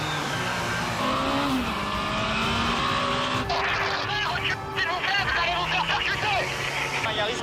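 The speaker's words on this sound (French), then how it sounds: "Un véhicule 145 km/h." A car speeds at 145 km/h on the Paris ring road, the Périphérique, its engine and road roar steady and loud throughout with tonal whine shifting as it accelerates, under faint voices.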